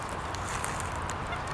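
A crowd of geese or ducks clamors in a steady, dense din of overlapping honks and squawks while being fed, close and continuous with no clear pauses.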